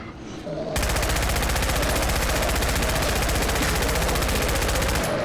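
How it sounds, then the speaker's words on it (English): PPSh submachine gun in Fallout 4 fires a long, loud, unbroken burst of rapid automatic shots that starts abruptly and runs for several seconds. "I remembered how cool the PPSH sounded in this attack"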